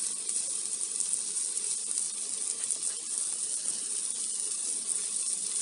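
A small knob of butter melts on a hot sac pan among sizzling meat for sac kavurma, making a steady, bright, close frying hiss that holds evenly without pause and without any voices.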